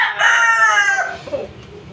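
A pet rooster from a line of gamefowl crosses crows once, loud and close, with a clear rising then falling call lasting about a second and fading into quiet rustling.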